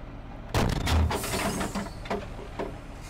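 A Leopard 2 tank main gun firing in the Steel Beasts Pro simulator, one loud heavy boom followed by a decaying rumble and mechanical clatter, close and alone.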